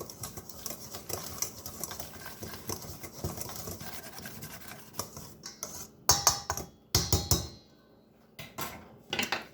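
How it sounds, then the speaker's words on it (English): A whisk clatters rapidly against a bowl as ingredients for Southern-style apple fritters are mixed, a dense metallic ticking rhythm with a few louder bursts and short pauses near the end. "So this gets whisked together pretty well"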